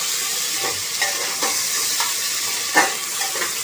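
Chopped onion fries with potatoes in a pan, a close, loud, steady sizzle with several soft stirring scrapes at irregular intervals and no talking.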